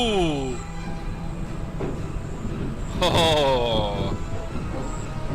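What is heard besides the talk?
ride train running in video game Ride Sims 2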